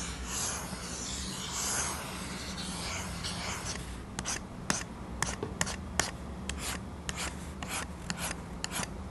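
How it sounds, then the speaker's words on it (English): A plastic stylus pen rasps across a graphics tablet's hard drawing surface up close, with soft continuous scratching at first, then a series of quick separate strokes and taps. "The sound of the pen drawing on the tablet surface is quite satisfying."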